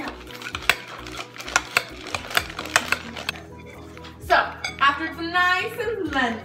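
A spoon stirs and scrapes food in a bowl at home, making a run of sharp clinks and taps at first, then busier scraping near the end, with voices talking over part of it.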